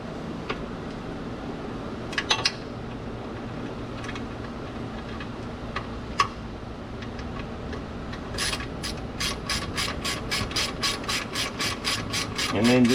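A ratchet tightens the lower control arm bolts on a 2009 Ram 1500 2WD, clicking in quick, steady runs near the end after a few sharp metallic taps earlier, with no talk.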